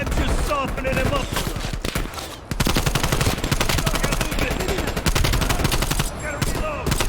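Rapid automatic gunfire fills a Call of Duty Black Ops Cold War campaign firefight, loud and sustained in dense bursts with a brief lull before the shooting resumes.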